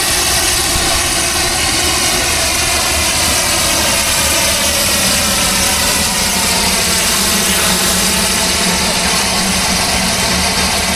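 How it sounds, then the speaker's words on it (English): A brick steam engine runs at an antique agricultural show in Georgia, giving off a loud, steady mechanical drone with continuous low rumble and churning throughout, no voices over it. "They've got this brick steam engine going."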